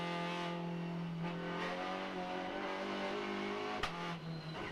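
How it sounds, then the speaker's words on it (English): Race car engine at Macau qualifying holds a steady droning tone with the throttle gently feathered, revs wavering only slightly, fairly close, with a brief sharp click near the end. "Such a delicate balance, isn't it, when you hear the throttle being used here?"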